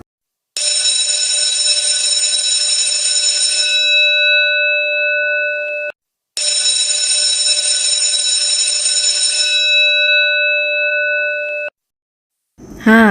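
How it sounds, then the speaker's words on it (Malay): An electric school bell rings loudly and continuously in two long bursts of several seconds each, separated by a brief pause. "Itulah dia bunyi loceng."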